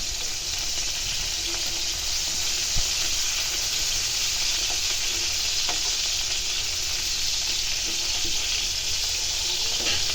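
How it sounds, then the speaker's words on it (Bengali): Green tomatoes frying in a pan for a mash, a steady close sizzle and hiss of hot oil with faint scattered pops, continuous and even for the whole stretch. "যতগুলো টমেটো আমি একটু ভর্তা করবো সবগুলোকে এভাবে ভেজে নেবে।"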